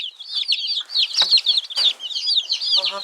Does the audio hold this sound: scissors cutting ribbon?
no